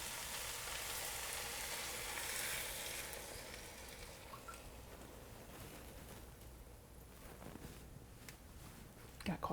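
Frittata egg mixture poured into a hot frying pan sizzles in a loud, broad hiss that gradually quiets to a softer crackle, with faint kitchen clatter at the end.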